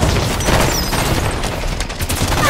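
Dense, loud enemy gunfire fills a video game firefight, with rapid overlapping shots and bursts forming a continuous barrage and no pauses.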